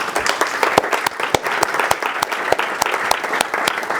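An audience applauding after a DevOps meetup talk in London, steady close clapping from a modest crowd with distinct individual claps throughout, loud and sustained with no speech.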